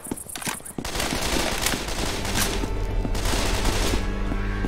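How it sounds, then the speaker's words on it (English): Sustained automatic gunfire in the zombie shooter game Left 4 Dead 2, a teammate firing continuously after a few opening shots, dense rapid bursts loud and close with no talk over it. "You know, shooting me ain't helping out there."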